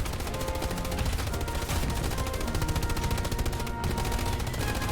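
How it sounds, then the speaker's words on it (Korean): Rapid machine gun fire mixed with other gunfire rattles loudly and continuously in a tank battle video game, a dense, unbroken barrage lasting throughout. "아무거나 쏴. 기관총이든 뭐든 다 쏴."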